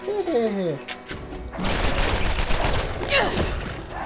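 Gunfire from the Borderlands video game as skags are shot, a dense burst of rapid shots and impacts after a short voiced sound at the start, loud and continuous through most of the clip.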